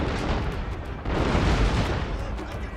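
Heavy gunner volleys in the Total War: Shogun 2 strategy game, a dense crackle of rapid shots and booming bursts, loud and continuous with a fresh surge of fire midway.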